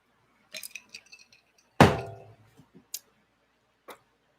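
Glasses touch in a toast, giving one bright clink in the middle, with a few lighter taps and knocks scattered before and after in an otherwise quiet room.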